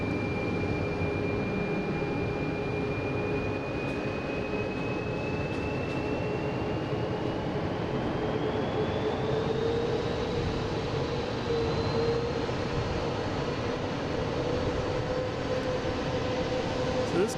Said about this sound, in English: Delta taking off to Columbus. E175, flight